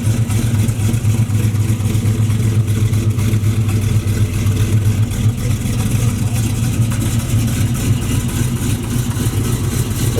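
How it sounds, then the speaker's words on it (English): A small block V8 in a two-door box Chevy idles loud and close, a steady deep rumbling burble holding even throughout with no revs or pauses. "This how it sound, y'all. Got a nice little small block in it too."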